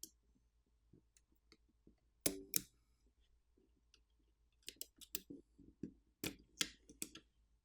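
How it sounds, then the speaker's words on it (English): Small Phillips screws are backed out of an 8849 Tank 3 Pro phone during teardown, giving faint sparse ticks and a few sharp clustered clicks of a screwdriver and metal parts, close by and without voices. "At this point, 7 additional Phillips screws have to be removed."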